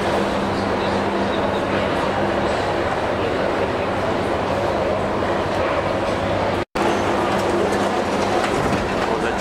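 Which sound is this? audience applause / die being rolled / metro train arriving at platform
metro train arriving at platform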